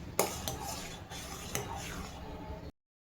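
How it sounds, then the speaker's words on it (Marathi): Cardamom powder is stirred into reduced milk for kulfi, with a spoon scraping and clinking against the pot in a few distinct strokes, close and fairly loud, ending abruptly. "आता त्यामध्ये इलायची पावडर टाकली आहे. व्यवस्थित मिक्स करून घ्यायचे."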